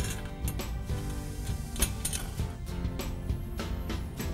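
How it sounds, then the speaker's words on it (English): Locking hinge being tightened onto an 80/20 aluminum T-slot frame profile, with a dense run of close metallic clicks and ratcheting ticks over a steady background, loud and continuous, no speech. "We'll find the location we want and we'll tighten it down."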